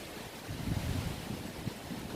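Wind gusting steadily across an open park while a Udi U66 RC model is flown, a continuous low rushing roar buffeting close to the microphone, with no voices.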